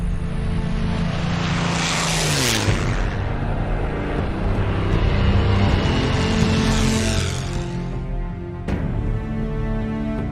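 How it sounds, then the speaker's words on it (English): A vintage warbird's piston engine and propeller roar loudly and continuously, the engine drone swelling and sweeping as the plane passes close at an air show, with no voices. "It's the most phenomenal engine propeller combination I believe that was ever built."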